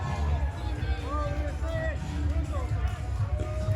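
A crowd at a cage wrestling match in Victoria cheers for the wrestler walking to the ring, a dense babble with scattered whistles and shouts, while a commentator talks over it.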